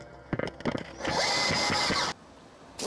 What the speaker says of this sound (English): you can also start them manually and then finish them off with the drill.